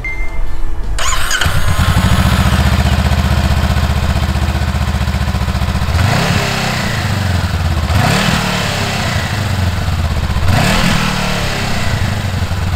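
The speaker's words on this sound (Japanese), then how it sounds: "続いて CBR400R のマフロンをね聞いてみようかなと思います" A 2022 Honda CBR400R motorcycle starts up and its engine and exhaust settle into a steady idle, then three rising revs swell and drop back, loud and close with no talking.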